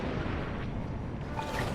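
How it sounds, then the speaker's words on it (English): Blaster fire crackles through a space dogfight in Star Wars Squadrons, a dense continuous barrage of shots and booms mixed with engine roar, with no clear gaps. "Under heavy fire."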